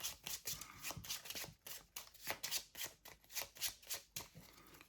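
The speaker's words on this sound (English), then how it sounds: "So we're going to shuffle our hand." A hand of Yu-Gi-Oh! trading cards is shuffled in quick, rhythmic riffling bursts, close and fairly quiet, with no talking.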